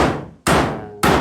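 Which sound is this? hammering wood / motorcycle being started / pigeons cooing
hammering wood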